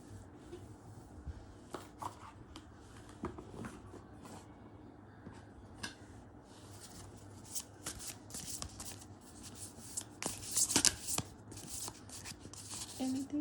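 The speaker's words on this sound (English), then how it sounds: "I'll just pick one oracle card from a different deck." Someone shuffles a deck of oracle cards close by, the riffles and flicks quiet but continuous, with a few sharper card snaps building toward the end.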